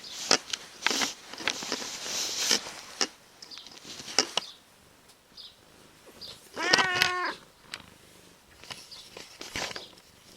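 A house cat indoors near a staircase gives a short, close meow in the middle, surrounded by scattered light taps and rustles, with no talking.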